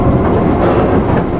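A Linimo linear motor maglev train rolls along an uphill stretch, heard from inside as a loud, steady, low rumbling roar without any voices.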